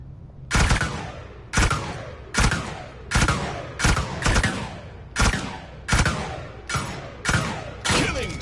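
Rhythmic gunfire in the video game Paladins, with about a dozen sharp, booming shots spaced under a second apart as the weapon's recoil is controlled. The shots are loud and close, with no talking.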